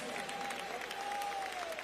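Steady applause from a church congregation, heard fairly faint and distant, with a sustained tone ringing faintly beneath the clapping.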